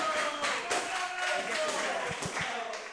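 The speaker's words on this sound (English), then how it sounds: "The crowd explodes here at our undisclosed location." A small crowd cheers and claps at the finish of an MMA championship bout held at an undisclosed venue with social distancing, a steady roar of scattered voices with a few sharp claps near the end.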